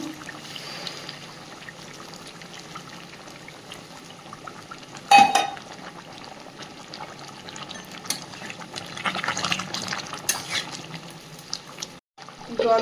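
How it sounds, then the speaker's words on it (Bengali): Faint, steady bubbling of water simmering in a pot, with a brief metallic clink partway through, and no voices. "জলটাও এদিকে টকবক করে ফুটছে"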